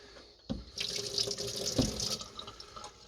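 Water gushes from an outside spigot near an RV, starting abruptly with a splash and running steadily into a container, loud and close, with no talking.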